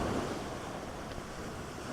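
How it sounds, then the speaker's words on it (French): Ocean waves along the Cameroonian coast below eroding cliffs and rocks, a constant loud roaring wash of surf with wind buffeting the microphone. "Vous voyez jusqu'où les vagues arrivent."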